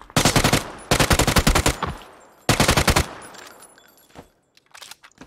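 Bursts of automatic gunfire in PUBG on the Miramar map, three loud rapid volleys close by, followed by fainter scattered shots and quiet gaps.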